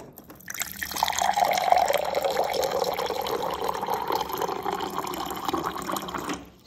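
Drinking water pours in a steady, continuous splashing stream for several seconds, close and fairly loud, then stops abruptly.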